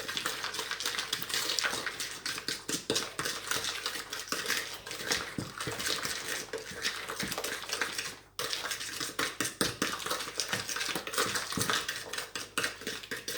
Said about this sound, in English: I'm going to get my egg and I'm going to mix that into it